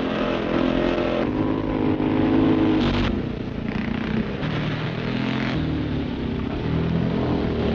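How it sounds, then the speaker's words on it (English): Scrambling motorcycles riding rough ground in an Essex gravel pit, a steady drone of engines rising and falling as the bikes rev, at moderate distance, from an old lo-fi recording. "this impromptu Sunday morning scrambling practice"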